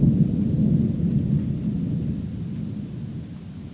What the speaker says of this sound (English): Hope I caught that thunder.